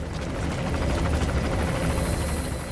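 Helicopter in the video game Metal Gear Solid V, a steady, loud rotor drone with dense low thumping that holds at even strength throughout, no speech over it.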